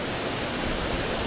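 Huay Mae Sai waterfall in Chiang Rai, a steady full roar of falling water filling the whole moment, loud and unbroken with no voices.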